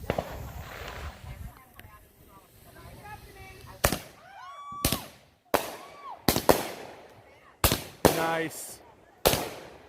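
An Alien 16-shot firework cake fires in a backyard: whistling launches and a run of sharp, loud bursts roughly every half second to a second, with a person cheering and speaking at the start.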